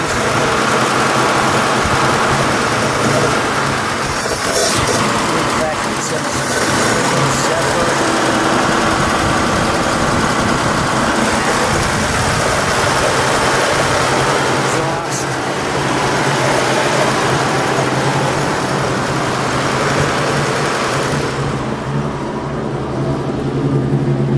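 A 1940 Lincoln Zephyr V12 convertible idles close by with a steady, continuous rumble and mechanical whir that holds even for about twenty seconds before easing slightly at the end.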